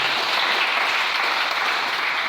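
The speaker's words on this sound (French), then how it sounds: "Est-ce qu'on peut acclamer le Seigneur?" A church congregation applauds to acclaim the Lord during a French-language sermon, a dense, loud, continuous clapping that fills the room with no voices over it.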